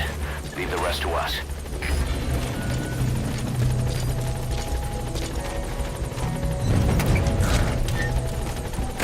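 Steady rotor drone of a support helicopter in a Metal Gear video game, continuing under talking voices, with a few brief louder bursts.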